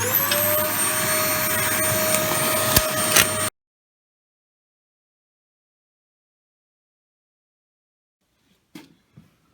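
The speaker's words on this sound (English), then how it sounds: "Get the hoover fired up." Vacuum cleaner running steadily with a loud whine after sweeping a Rumford fireplace chimney, then switching off abruptly into silence, with faint knocks near the end.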